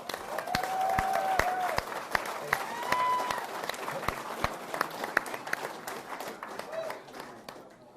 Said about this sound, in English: I would appreciate a loud applause for our Long Lake Ice Fishing Derby committee.